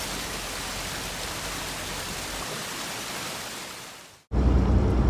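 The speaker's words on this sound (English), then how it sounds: "I was in heaven just listening to that water flowing" Steady broadband rush of flowing water, moderately loud and continuous, cutting out briefly before a louder burst of the same rushing noise returns.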